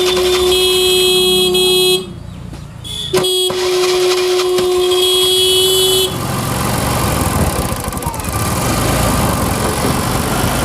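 A TVS Jupiter scooter with a cold-weather starting problem is cranked by its electric self-starter, a loud steady tonal whir that breaks off and resumes, then gives way to a rougher broadband engine noise after about six seconds.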